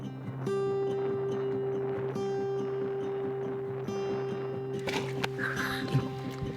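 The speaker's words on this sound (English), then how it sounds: "We decided to take the dinghy to shore and check out the sunset from land." A dinghy heads toward shore, its motor giving a steady, close, even hum that runs through the whole stretch, with faint splashy water noise rising near the end.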